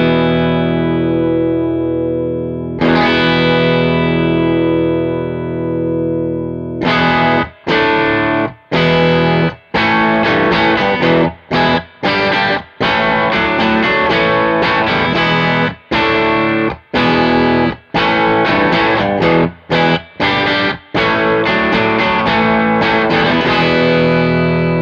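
An electric bass plays through a Chase Tone Secret Preamp pedal, run at 9 and then 12 volts. A sustained distorted note rings out, followed by loud, driven, rhythmic riffing with short choppy breaks.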